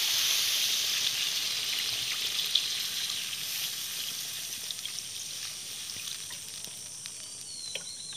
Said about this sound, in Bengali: এখন আমি কিছুটা জল দিয়ে দেবো।